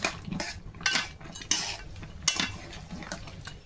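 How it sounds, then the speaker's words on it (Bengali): A spoon stirs a cooking pot with some water in it, giving several metallic clinks and scrapes in an irregular rhythm, close and clear, with a faint sizzle underneath. "নেড়ে ছেড়ে দেবো।"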